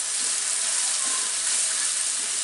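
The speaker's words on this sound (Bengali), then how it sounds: "এখন এই পেঁয়াজটাকে আমার একটু লালচে করে ভেজে নিতে হবে।" Chopped onions fry in a pan until reddish, giving a steady, even sizzle with a constant hiss and no pauses, close and alone.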